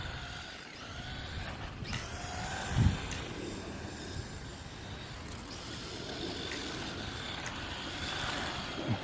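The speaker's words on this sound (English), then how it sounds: "do a little drifting on it" A PX 9301 1:18 scale off-road 4WD ready-to-run RC car drifting, a faint continuous whir of its small electric motor and tyres scrubbing on the ground, with one brief thump partway through.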